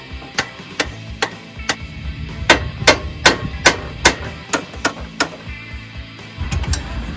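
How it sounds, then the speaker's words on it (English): Hammer blows on a rusted upper ball joint of an NB Mazda Miata during a coilover install, a dozen or so sharp metallic strikes in an uneven rhythm, close and loud over a low background hum, with no talk. "So we're gonna use my trusty hammer."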